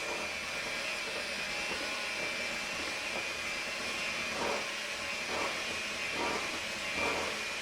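A modest hand mixer beating tiramisu mixture gives a continuous whirring drone, with the beaters' pitch swelling slightly now and then as they work through the bowl.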